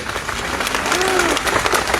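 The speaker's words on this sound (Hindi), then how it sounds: "आप लोगों को तालियों से इनका वेलकम करना चाहिए" Dense crowd applause welcomes an official at a public gathering, a steady wash of many hands clapping at even loudness for the whole stretch.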